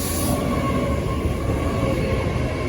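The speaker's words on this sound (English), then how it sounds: "we've just managed to catch one of the 800s. Just let it go past." A GWR Class 800 train runs past at Swindon station with a steady, loud rolling rumble and a faint metallic whine, close by and unbroken throughout, with no talking.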